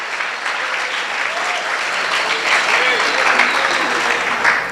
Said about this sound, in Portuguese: Dá uma salva de palmas ao Senhor agora.